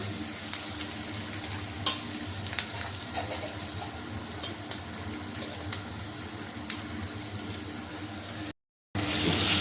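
Green chillies, dried red chillies, cumin, garlic and coriander stirred together in a pan: a soft continuous sizzle with faint intermittent spoon taps, close and quiet, briefly cutting out near the end.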